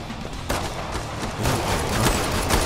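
Gunfire from the AR-15 "Varmint" rifle, a 5.56mm carbine with a 20-round magazine, in the video game Killing Floor 2. A dense run of loud, closely spaced shots plays over a steady bed of game noise, with no voices.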